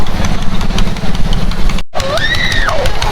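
A loud, rough tractor-pull engine chugs nearby, cuts out for a moment, then comes back with a rising, wavering whine.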